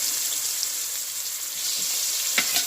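Turkey neck pieces frying in a pot on a stovetop for Jamaican-style stew, a steady, close hiss of sizzling oil with a brief sharper crackle near the end.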